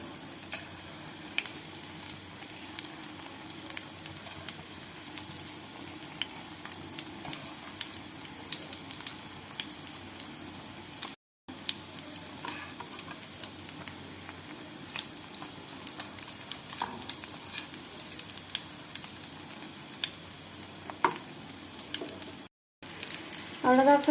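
Fish cutlets fry steadily in a pan of oil, a continuous close sizzle with faint crackles holding for a long stretch, briefly cut off twice, with no talking over it.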